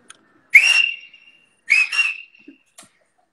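A person whistles a short two-part call, then repeats it with a rising second note, clear and close against silence.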